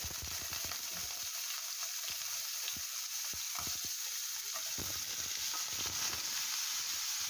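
Shrimp frying in a little oil crackle and sizzle steadily, with scattered sharp pops and a constant bright hiss, close by and with no talk.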